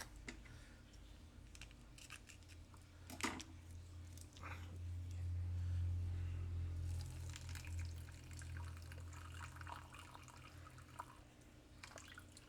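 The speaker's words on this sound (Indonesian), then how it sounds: "kemudian dicampur dengan air ya guys" Water pours into citric acid for a rust-removal mix, a soft splashing rush that swells for a few seconds mid-clip amid faint clicks and small handling sounds in a quiet room.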